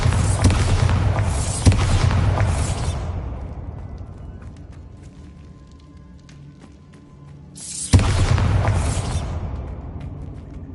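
Two loud, booming explosions from a Bombarda blasting spell in a Hogwarts video game, each a sharp burst that fades into a long rumbling decay, the second following several seconds after the first.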